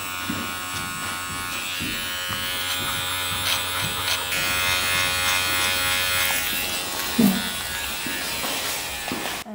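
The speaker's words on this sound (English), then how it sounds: "here you see me using this clipper as a scissor" Electric grooming clipper trimming the fur of a Bouvier des Flandres dog, a steady close buzz with brief pauses and changes in load as the blades move through the coat.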